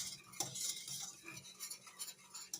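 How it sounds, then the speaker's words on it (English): Vanilla pudding stirred in a pot off the heat as it thickens: faint, soft scraping and light utensil taps against the pan, quiet and close, with no talking. "Now, if you don't stir this real good, it will scorch."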